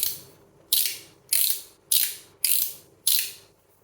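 Stainless steel Ammo Wormhole clone fidget toy, six sharp loud metallic clicks at a steady, roughly even pace, each decaying quickly, close up with nothing else heard.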